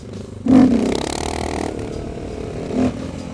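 A KTM 690 Supermoto motorcycle accelerates hard for a wheelie, its engine surging loudly, then droning along before a second brief rev near the end, with some clatter and no talking.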